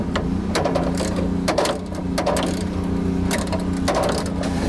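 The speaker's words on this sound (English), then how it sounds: "Now we got that bolt off" A bolt is worked loose on an old soda vending machine: a run of sharp metallic clicks and knocks over a steady low mechanical hum, close up, with no talking.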